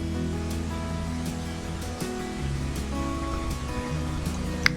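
Onions hit half a cup of hot oil in a cooking pot and sauté for kari pakora, a continuous dense frying hiss at close range with a faint clink near the end, no talk.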